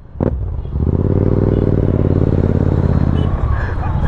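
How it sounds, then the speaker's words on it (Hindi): A motorcycle engine starts with a sharp burst, then a loud, steady throbbing exhaust rumble holds close by before easing slightly. "ए साउंड केम जो तारी बाइक में?"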